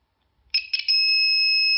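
After a moment of silence, a small bell on a water-pressure science toy rings with a few quick strikes, then settles into a bright, sustained ringing tone, close and clear.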